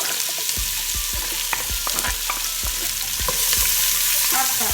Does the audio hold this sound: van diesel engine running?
no